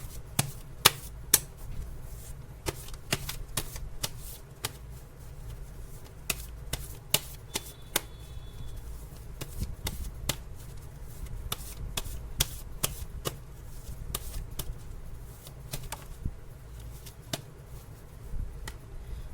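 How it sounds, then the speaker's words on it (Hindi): Tarot cards are shuffled by hand, making a long run of quick, light snapping and flicking clicks in irregular clusters over a faint steady background. "चलिए ऐसा शफल कर लेती हूँ।"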